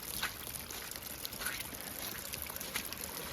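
Water trickling and running out of a flooded barn, a steady low, rushing flow with faint splashy bubbling, heard fairly close and quiet with no voices.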